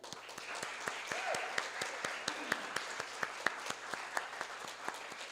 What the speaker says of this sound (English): I want to give another round of applause for Reverend Diane